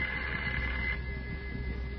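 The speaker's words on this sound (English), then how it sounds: "Your phone, Miss Walker" A telephone rings in an old-time radio drama, a steady bell tone filling the two seconds with no talk over it.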